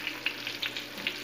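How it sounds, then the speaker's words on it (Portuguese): Breaded jiló frying in an old pan on a stove, a steady close sizzle dotted with quick bright pops and crackles. "Eu fui fritando ele, ó."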